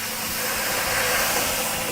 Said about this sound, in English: And that just creates a nice bit of steam.